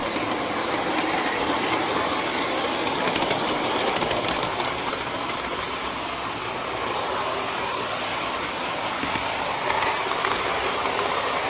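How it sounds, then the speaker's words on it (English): Train passing nearby with a continuous loud rumble and rattling clatter of wagons and wheels, staying steady for the whole stretch with brief clicking peaks and no voices. "This is getting noisy, this train."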